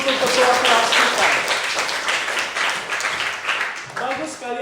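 Classroom applause for the class leader after a presentation on harvest and post-harvest, a few seconds of scattered clapping from students with voices mixed in.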